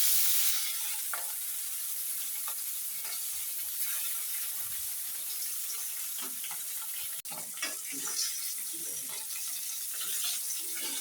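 Koi fish sizzling in a hot wok, a steady broad crackle of frying oil running throughout with occasional clinks and scrapes.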